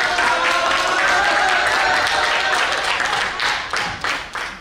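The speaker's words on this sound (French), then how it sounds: "Un tonnerre d'applaudissements est entendu." A crowd claps in steady, dense applause that holds strong, then begins to thin and break into scattered claps near the end.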